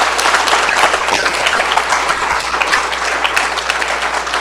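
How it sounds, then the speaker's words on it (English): Warm round of applause from an audience honoring teachers at a Sunday Satsang gathering, loud, dense clapping that fills the room evenly from start to finish without any voices. "Can we give a round of applause to our teachers?"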